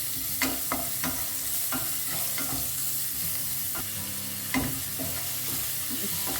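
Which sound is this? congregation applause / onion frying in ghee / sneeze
onion frying in ghee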